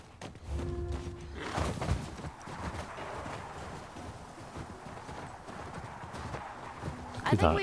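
Horse hooves clip-clop at a steady walking rhythm in The Last of Us Part 2, with a brief whinny, under people talking.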